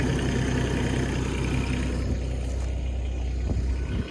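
A Kubota SCL 1000 skid steer engine runs at a steady, even drone, close by and moderately loud throughout, with no one talking.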